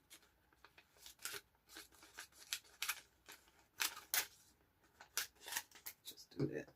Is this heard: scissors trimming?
yes